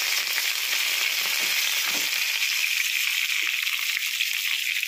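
Cumin seeds tempering in hot oil for cucumber chutney, a loud, close, continuous crackling sizzle with small pops throughout.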